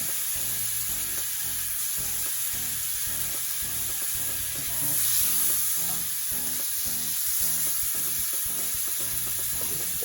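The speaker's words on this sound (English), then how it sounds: "my onions and peppers and the mixed veg. Just added some butter there. There goes the onions." Onions, peppers and mixed vegetables fry in butter in a pan, a loud continuous close-up sizzle with crackling spatter that swells briefly midway, with no talking.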